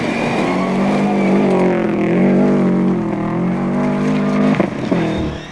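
A Group N Subaru Impreza rally car engine roars loud and sustained on a rally stage, holding a steady droning pitch that dips and rises slightly before a brief rough burst near the end.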